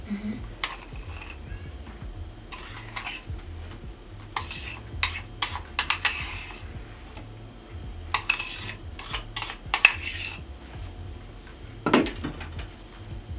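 A utensil spreads chocolate roll mixture in a dish, producing irregular close scrapes and light clinks in scattered bursts, with no talking.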